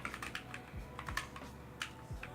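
Rapid typing on a computer keyboard clicks and clacks in quick irregular bursts, close and fairly quiet, with a few heavier key thumps mixed in.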